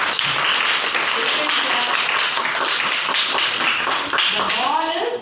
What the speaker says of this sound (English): Very good. Clap hands.